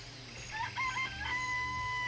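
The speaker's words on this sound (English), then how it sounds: "Remember there were some chickens in the chicken coop." A rooster crowing in a chicken coop in the video game Danganronpa, one drawn-out, fairly faint cock-a-doodle-doo over a low steady background hum.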